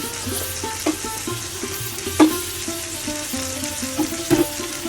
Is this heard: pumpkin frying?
yes